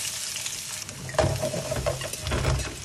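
Zucchini sizzling in a frying pan over high heat, a steady close crackle with occasional popping and stirring sounds, no voices.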